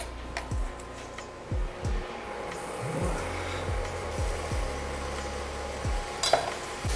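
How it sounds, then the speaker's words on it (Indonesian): Onion and garlic sautéing in oil in a pan, a soft steady sizzle with repeated light knocks of a utensil stirring, fairly quiet and close. "Lalu kita tumis bawang bombay dan bawang putihnya."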